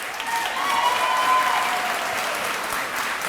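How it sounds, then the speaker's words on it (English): Audience applause fills a commencement ceremony hall, a steady dense wash of many hands clapping that swells slightly midway and holds without voices. "Christian, we can clap for that one."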